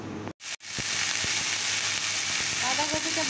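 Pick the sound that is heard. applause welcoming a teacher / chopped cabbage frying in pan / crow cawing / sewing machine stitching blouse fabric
chopped cabbage frying in pan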